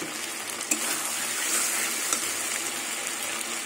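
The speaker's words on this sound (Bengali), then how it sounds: "এবার মিক্সি বাটি ধোয়া জলটা দিয়ে দেবো।" Water from rinsing a mixer jar pours steadily into a hot pan of cooking Bengali bhetki fish curry, a continuous hissing gush with a faint sizzle and a couple of small clinks.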